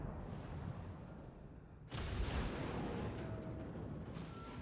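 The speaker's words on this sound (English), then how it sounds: "look at this Yamato exploding" A Yamato battleship blows up in the naval game World of Warships, a sudden loud blast that breaks over steady rumbling and rolls on as a heavy, sustained roar.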